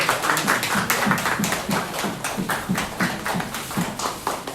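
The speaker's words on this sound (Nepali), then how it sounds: "कृपया ताली बजाइदिनु होला।" Audience clapping at a Nepali community anniversary ceremony in Macau, rhythmic synchronized claps in a steady beat, fairly loud and close, with a faint murmur of voices underneath.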